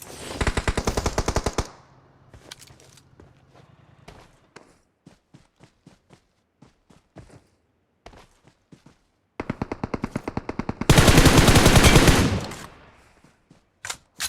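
Rapid automatic gunfire in PUBG, with loud full-auto bursts at the start and again near the end, separated by scattered single shots and light footsteps in between.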